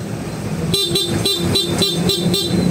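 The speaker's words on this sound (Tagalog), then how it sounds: "stock horn naman tayo" A stock Honda ADV160 motorcycle horn honks in a quick series of short, loud beeps, about seven blasts in a rhythmic pattern.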